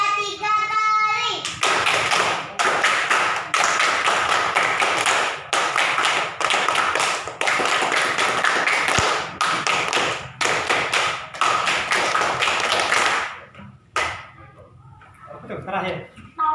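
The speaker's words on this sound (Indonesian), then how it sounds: "Tepuk pramuka 3 kali." A class of children performs the Indonesian scout clap (tepuk pramuka) three times, bursts of rhythmic group clapping broken by short pauses, loud and close, fading out near the end.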